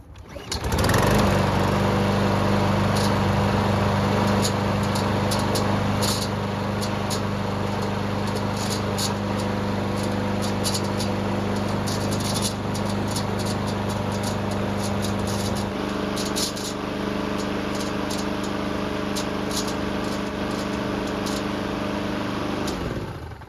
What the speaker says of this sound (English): let me start the engine and maybe you can hear the sound the recoil is making